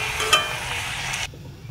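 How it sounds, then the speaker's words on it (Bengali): Bhature frying in shallow oil in a kadai give a close, steady crackling sizzle with a quick clink, which cuts off abruptly into quieter background near the end. "এই যে আর একটু আমি লালচে করে ভেজে নেব"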